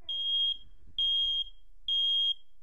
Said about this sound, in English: what a smoke alarm sounds like